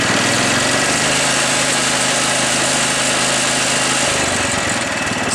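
A 1973 John Deere 110 lawn tractor engine idles steadily and loudly up close, a continuous even drone with a slight shift in tone near the end.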